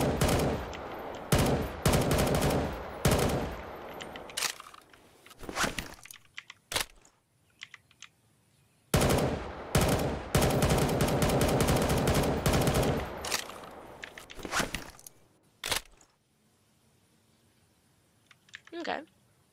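M4 carbine fire in a Roblox roleplay game, loud rapid bursts in several separate strings with pauses between them, and a voice talking in the quieter gaps.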